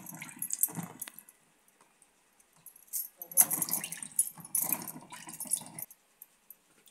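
Indian gooseberries (amla) that were soaked in alum water are washed by hand, giving bursts of splashing and sloshing water with gentle clinks, separated by quiet pauses, close and moderately faint.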